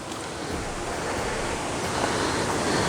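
A waterfall roars nearby along a rough, hard trail at Katthiwada, a loud, unbroken rushing wash that holds steady and swells slightly toward the end, with no voices.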